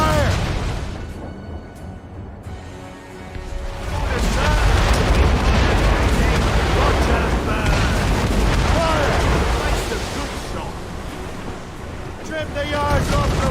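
Ship cannons in Assassin's Creed Rogue boom over rushing waves and wind, several heavy blasts landing among the surf noise while voices shout in between.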